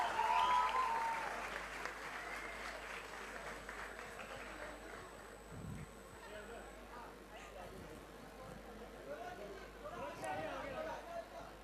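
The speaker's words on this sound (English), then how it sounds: "Let's have a round of applause for him, please." At a college trailer launch for the Hindi film Akira, a crowd gives faint, distant applause mixed with chatter and murmur, and the clapping swells a little again near the end.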